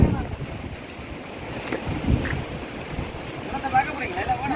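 Wind gusts buffet the microphone outdoors in a Jaffna village, a steady broad roar with rising and falling bursts, and a voice is faintly present beneath it.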